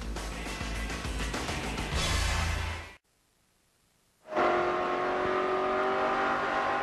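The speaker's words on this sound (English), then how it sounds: "Denny Hamlin out in front in St. Louis tonight" NASCAR Busch Series stock cars roar around the St. Louis track at night in a loud, steady engine drone. It drops to near silence for about a second, then returns just as loud.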